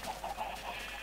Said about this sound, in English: And look at all these chickens.